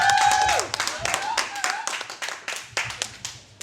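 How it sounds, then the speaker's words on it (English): An audience in Milton Keynes bursts into applause for a motivational speaker, with sharp, dense clapping that tails off over a few seconds while voices murmur beneath. "Give a round of applause for him."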